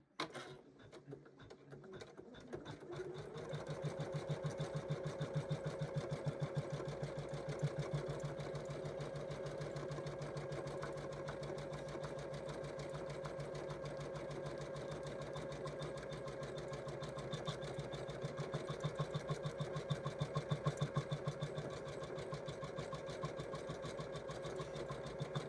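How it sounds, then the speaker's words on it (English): An embroidery sewing machine stitching down a Christmas stocking made in the hoop, starting up after a moment and then running with a fast, steady mechanical whir and rapid needle clatter, close and continuous. "there's a little line of stitching that it's putting off to the side"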